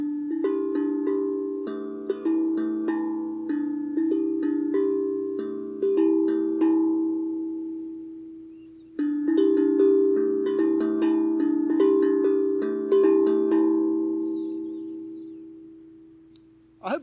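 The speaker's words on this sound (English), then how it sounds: "And translated onto the tongue drum with a similar high note, low note, it sounds like this." A tongue drum plays a djembe drumming pattern translated into alternating high and low tuned notes, ringing and overlapping in a steady loop that repeats twice, with a small tap at the very end.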